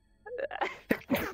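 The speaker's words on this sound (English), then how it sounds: "I just sneezed." A single sharp human sneeze, close and loud, with a short inhaled build-up and an abrupt burst, followed by a second brief vocal burst.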